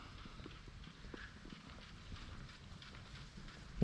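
Horses on a neighbouring rural property in Dalton Gardens, Idaho, clip-clopping with hoof sounds at a moderate distance, faint and steady over light wind noise.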